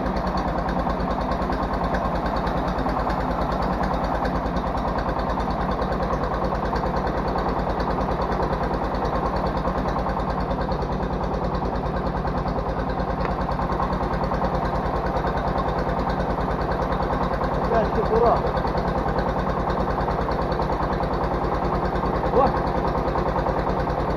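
A tractor engine idles steadily on hand throttle while hitched to a homemade PN 1-30 plough, a constant close, even rumble with no change in pitch throughout, and faint voices now and then in the background.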